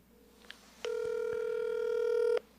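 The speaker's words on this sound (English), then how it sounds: "Let's see if we can call Nicole" A phone call placed on speakerphone gives a few faint clicks, then a single clear, sustained ringing tone that stops abruptly, with no voices.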